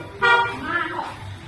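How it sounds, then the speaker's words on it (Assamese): A waiting car honks outside a house, heard as two short horn blasts in quick succession, moderately loud and slightly distant, with faint background voices. "আমাৰ গাড়ী বাহিৰত হৰ্ণ বজাই আছে"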